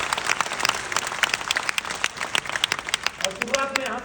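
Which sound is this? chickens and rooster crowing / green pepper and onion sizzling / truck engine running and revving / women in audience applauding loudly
women in audience applauding loudly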